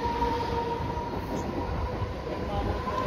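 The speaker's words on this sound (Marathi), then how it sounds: "आमची ट्रेन पण गेली." A Mumbai train pulls away from a station with a steady low rumble and rolling noise and a thin whine, loud and continuous throughout.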